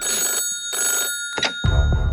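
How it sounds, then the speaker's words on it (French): An old-style telephone bell rings in repeated bursts, loud and close, with short pauses between rings and a low thump at the end. "À peine étais-je rentré que le téléphone se mit à remplir l'espace de son carillon maléfique."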